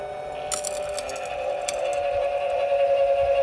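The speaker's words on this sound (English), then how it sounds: "I'm gonna go ahead and continue jacking this down, make sure I can actually take some of the weight on this," A Lippert electric power tongue jack motor lowers a trailer tongue with a steady, close whirring hum under faint clicks and crackles.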